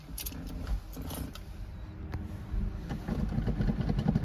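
Metallic clicks and clunks of a Ferrari 348's gated manual gear shifter moving through its slots, heard close up over a steady idling engine rumble, on a rainy day.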